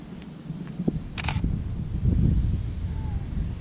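A camera shutter clicks once with a quick mechanical snap, fairly close, over a low steady background rumble.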